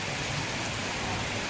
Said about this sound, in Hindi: बारिश बहुत हो रही है बाहर